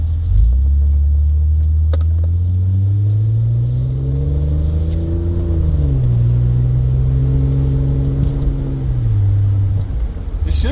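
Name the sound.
car with rebuilt 4L60e transmission shifting while driving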